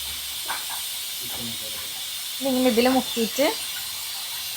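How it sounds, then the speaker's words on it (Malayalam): A pressure cooker hisses steadily in a home kitchen, a continuous bright steam rush running the whole time while people talk over it in short bursts. "കുക്കറിന്റെ സൗണ്ട്. അടുത്ത പ്രാവശ്യം നമുക്ക് സൗണ്ട് ഇല്ലാത്ത കുക്കർ വാങ്ങാം കേട്ടോ."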